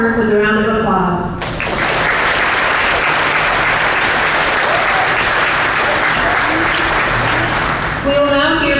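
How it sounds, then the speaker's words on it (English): A large audience at a 2021 Granger High School commencement ceremony bursts into loud, sustained applause that fills the hall for several seconds, with a speaking voice just before and after it. "Please acknowledge their hard work with a round of applause."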